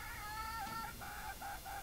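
Sampin native chickens, an all-black pure breed, cluck and call in short tonal bursts, a few quiet vocalizations in quick succession with no one talking.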